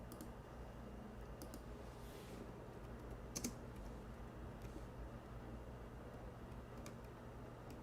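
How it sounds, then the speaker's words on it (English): Typing on a computer keyboard: faint, sparse key clicks tap at irregular intervals over a quiet, steady background hum. "I'm typing in English"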